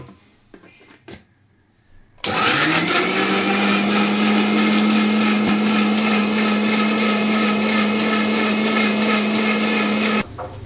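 An electric blender grinds poppy seed, chili and tomato into a paste: after a few soft kitchen knocks, a loud steady motor whir runs for about eight seconds and then cuts off abruptly.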